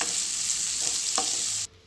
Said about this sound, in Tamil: சேர்த்துட்டு இது ஒரு வாட்டி கலந்து விட்டுருங்க.